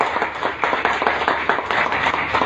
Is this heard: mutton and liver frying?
no